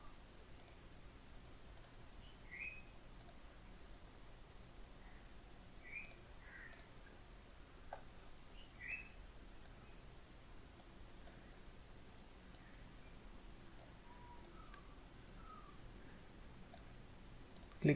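Mouse clicks in CATIA V5 come at a steady, irregular pace, each one a single faint sharp tick over a quiet room hum. No voice is heard.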